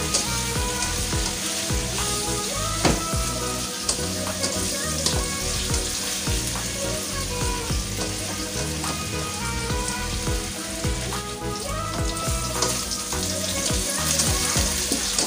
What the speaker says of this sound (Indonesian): Ini kita aduk-aduk sampai agak layu terongnya ya teman-teman